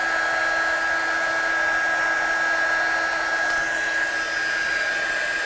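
A hair dryer blows steadily to dry watercolour paint on a stamped Christmas card, a loud, close, even whirring hiss with a fixed high whine that runs unbroken the whole time, with no talking.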